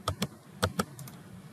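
A computer keyboard key is tapped while working in OnShape CAD software, giving a few crisp clicks in two quick pairs, fairly close, followed by fainter taps.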